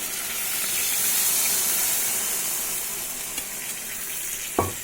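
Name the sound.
sautéing soybean and pointed gourd curry in a pan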